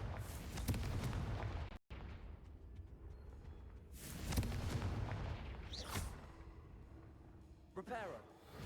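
Confringo spell blasts in Hogwarts Legacy go off as several loud booming bursts a few seconds apart, each with a crackling tail, over a low game rumble, and a voice is heard speaking between them.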